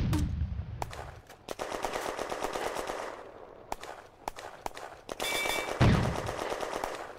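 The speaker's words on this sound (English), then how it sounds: "The first Sommer is firing at the anti-tank gun crew on One Tree Hill." A Somua S-35 tank in a June 1940 counter-attack war game fires at an anti-tank gun crew, rattling out repeated machine-gun bursts and sharp single shots that echo, mostly alone without talk.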